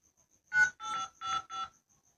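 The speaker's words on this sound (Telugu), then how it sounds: "సలీం గడికి ఫోన్ చేయి" A telephone is dialed for a call, producing four separate keypad tones in an even, steady rhythm, each lasting a fraction of a second, clear and close with silence between them and no talking.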